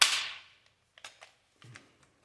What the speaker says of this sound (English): I'll use my air staple gun.